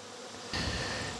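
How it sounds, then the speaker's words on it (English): Bees buzz around hive syrup, a faint hum that jumps suddenly louder and closer partway through and stays as a dense, steady drone. "because the bees will come and get it"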